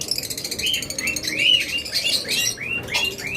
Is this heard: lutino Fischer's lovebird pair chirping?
yes